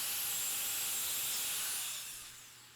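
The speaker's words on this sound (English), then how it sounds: "Now I'm just using a die grinder with a carbide burr on there just to clean up the bottom side of the eye" A die grinder with a carbide burr whines steadily at close range as it cleans the inside of the eye of a forged rounding hammer, then tapers off near the end.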